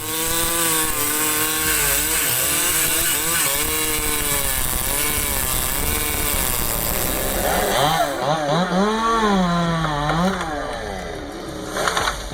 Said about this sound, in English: That is a powerful chainsaw.